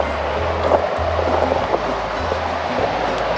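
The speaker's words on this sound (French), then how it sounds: "je vais vous faire voir un peu la rivière" River water flowing beside a cycling dike along the Rhône near Avignon, a steady broadband rushing wash with a low rumbling undertone, constant throughout and fairly loud, no talking.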